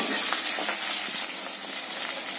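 Ten small shallots and garlic cloves frying in hot oil, a loud, dense, continuous hiss and crackle close up, with faint stirring under the sizzle and no voices.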